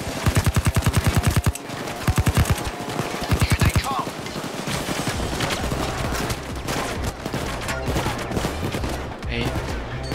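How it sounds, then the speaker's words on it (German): Rapid automatic gunfire in the video game Payday 2, loud bursts in quick succession at first, then continuing under dense in-game noise and music. "Ich kann ernsthaft nicht durch den Zaun schießen."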